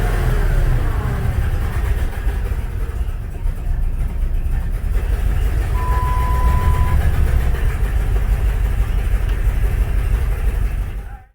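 A 1996 Jeep Grand Cherokee with warm-start, idle and throttle-response trouble is given gas, its engine revving in a loud, sustained roar close by that holds steady and then cuts off abruptly at the end.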